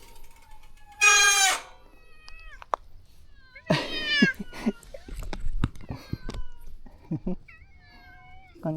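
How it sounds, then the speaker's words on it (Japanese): Several cats on Tsuken Island meow in a scattered series of loud, drawn-out calls, some overlapping, with quieter chirps and small ambient noises between them and no talking. "猫ちゃんがいっぱいおる。"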